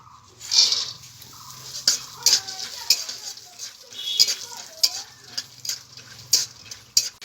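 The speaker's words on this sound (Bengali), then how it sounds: "এখন এই চিনিবাদামটা ভেজে নেব।" Peanuts frying in a pan, a soft sizzle under repeated sharp clicks and scrapes of a spatula stirring them, close and moderately loud.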